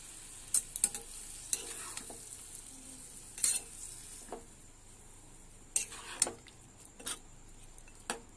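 Vegetable stalks simmering in a pan with a little added water, a soft sizzle under intermittent scraping and clinking of a utensil stirring against the pan.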